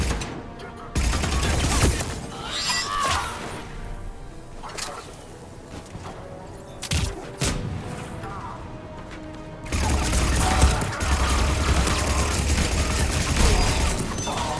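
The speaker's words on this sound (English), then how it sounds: "This SMG was really good in the multiplayer." Submachine gun fire from Mass Effect 3 comes in bursts of rapid shots, loud sections alternating with quieter gaps, mixed with game effects while people talk over it.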